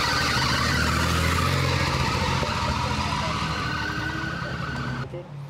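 An old Peugeot 504 gives off a sustained, strong squeal with steady tonal lines over engine rumble, then cuts off abruptly near the end.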